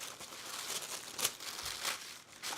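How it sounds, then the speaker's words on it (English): Scissors snip and rustle through the fabric of a garment as the skirt portion is cut away, a soft run of crinkling cuts with one brighter snip partway through, close and fairly quiet. "And now I'm just going to cut off the skirt."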